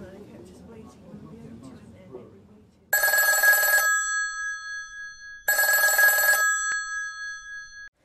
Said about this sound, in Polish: Rozdzwonił się telefon w galerii obrazów.